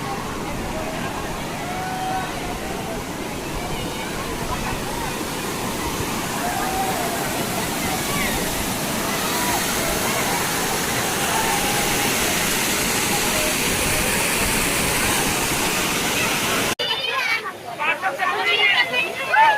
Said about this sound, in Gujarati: જોઈ લો અહીંયાથી ઝરણું કેટલું આગળ જાય છે.